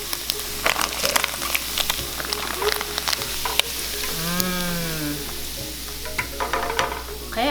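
Tofu frying in hot oil for Thai mee krob gives a loud, dense sizzle full of sharp crackles and pops. The sizzle runs steadily throughout, and a brief voice rises over it midway.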